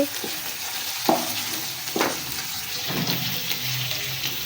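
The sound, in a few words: beef being sautéed and stirred in a pot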